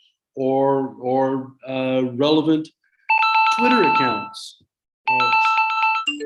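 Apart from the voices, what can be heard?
phone ringing with an incoming call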